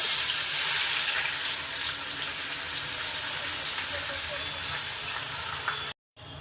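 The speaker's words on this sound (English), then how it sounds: "So I'm adding my onions." Onions hitting hot oil in a pan, a loud, close, steady broadband sizzle that holds for about six seconds, then cuts off abruptly before resuming.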